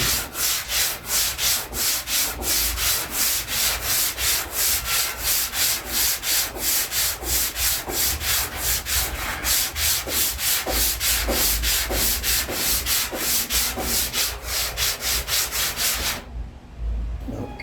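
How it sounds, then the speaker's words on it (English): A heavy sanding block rubs back and forth over wood in a fast, even rhythm of rasping strokes, loud and close, stopping abruptly near the end with no talking. "They're heavy, somewhat, but that just helps you when you're sanding."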